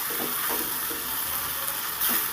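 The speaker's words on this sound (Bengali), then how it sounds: "সুন্দর করে নেড়ে চেড়ে আমি পোস্তটা দিয়ে দু মিনিট ভেজে নেব" Poppy seed paste frying in a pan as it is stirred, giving a steady, dense sizzle throughout with faint scraping strokes underneath, close and fairly loud.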